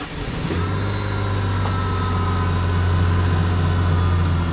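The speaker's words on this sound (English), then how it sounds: "And starting the engine." Van engine cranking briefly, then catching and settling into a steady idle with a strong low hum, running continuously and fairly close with no talking.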